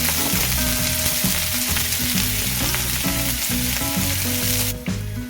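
Fenugreek leaves (methi) fry in a pan with a loud, steady sizzle and hiss that carries on without a break, over a rhythmic, tonal background hum and with no voices.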